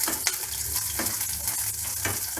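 Onions frying in oil for a spinach chutney, a steady close sizzle with a few brief stirring scrapes throughout and no voices.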